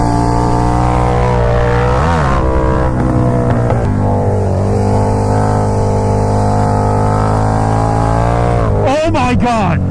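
A KTM Super Duke motorcycle roars loud and close as its rear wheel spins and fishtails on a corner exit, the engine revving and wavering with sharp surges near the end, while a person talks over it.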